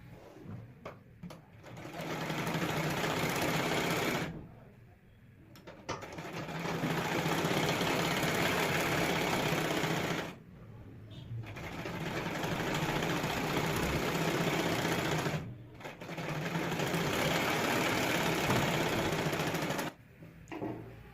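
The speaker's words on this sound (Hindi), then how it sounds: "अब इसकी किनार किनार पर सिलाई लगा दूंगी।" A sewing machine stitches along the edges of a blouse in several sustained runs of fast, close mechanical whirring, with brief pauses in between.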